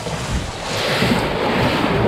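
Ocean waves surge and wash through small sea caves in a loud, continuous roar, with wind buffeting the microphone and no talking.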